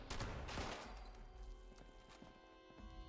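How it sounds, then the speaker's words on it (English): Gunfire from shotguns fitted with scopes in Fallout 76, a run of loud overlapping blasts and cracks that start hard and then thin into scattered, quieter impacts. "Who's shooting me and why? Shotguns with a scope."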